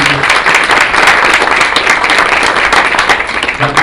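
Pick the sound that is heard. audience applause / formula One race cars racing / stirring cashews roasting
audience applause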